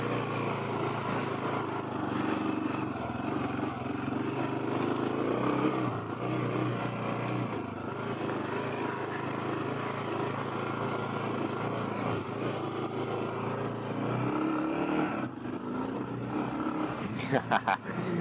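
A Kawasaki KLR650 motorcycle rides off-road through sand, its engine droning steadily with shifting revs through a gear change, heard up close under wind.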